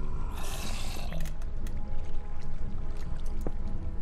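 Continuous flowing water in a Minecraft-style block game, a rushing, pouring wash heard up close, briefly brighter and noisier near the start, with scattered clicks and taps on top and no voices.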